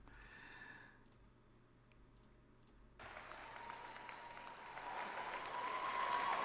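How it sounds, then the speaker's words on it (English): Audience applause erupts at the CPAC conservative political conference, starting as faint scattered clapping and then swelling abruptly into a dense, sustained crowd roar that keeps building, heard at a distance. "That one gets the applause."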